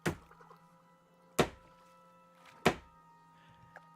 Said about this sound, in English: you hear the thud of the chopping block, the butcher's knife on the chopping block